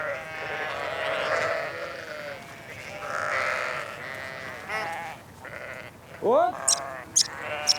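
A flock of sheep bleats on pasture near their shepherd, with several loud, close bleats rising near the end over someone speaking in German.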